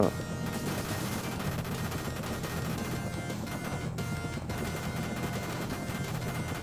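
Rapid, continuous gunfire from the video game Contra III: The Alien Wars rattles without pause, a dense stream of shots with game effects, loud and close throughout.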